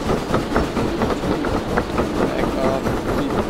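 A loaded freight train of about nine cars in the Derail Valley video game labors up a steep hill at full throttle, giving a loud continuous rumble with rhythmic clicking from the wheels.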